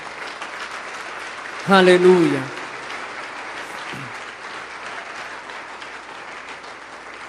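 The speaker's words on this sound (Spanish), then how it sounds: "Dale un aplauso más fuerte al Señor." A church congregation claps steadily throughout, a dense wash of applause, while a single voice calls out briefly near the start.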